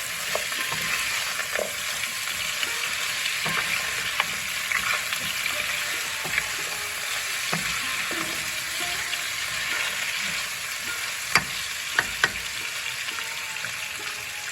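Ginger fries in a hot pan before greens go in, a steady close sizzle with occasional sharp spatula taps and clinks against the metal, no talking.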